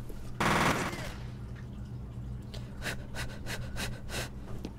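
Gunfire in the video game F.E.A.R.: one loud burst of shots early on, then a rapid series of sharper, separated shots later, over a low steady game-ambience hum.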